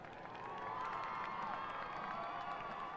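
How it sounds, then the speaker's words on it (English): A high school football game crowd applauds and cheers for the marching band students, a steady distant roar of many voices and clapping that swells after a moment and holds, with no single voice standing out. "Can we please celebrate our marching band students by giving them a round of applause?"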